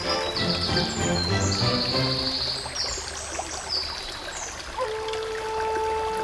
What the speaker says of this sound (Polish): Leśny odcinek rzeki, bardzo rwący, z dużą ilością głazów i powalonych drzew.